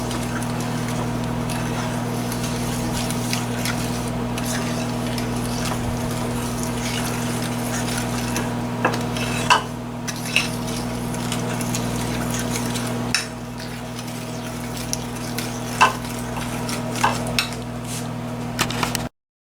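Sugar, egg and butter being mixed in a bowl for a blueberry pie, a steady low droning hum that runs throughout, with a few light clinks and taps near the end.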